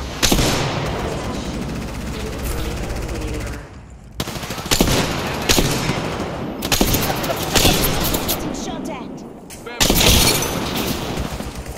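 Rapid gunfire from an Apex Legends battle royale match on the Olympus map, with sustained automatic bursts broken by brief pauses, loud and close, with game voice lines over it.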